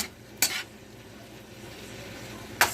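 Garlic spinach sautés in a pan on a stovetop, seasoned with seasoning salt, giving a steady low sizzle with two sharp scraping stirs near the start and end.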